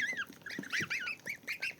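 Many tiny high-pitched peeps overlap in a steady chorus, the thin chirping of newly hatched goslings of a large grey goose breed close by, with no talking.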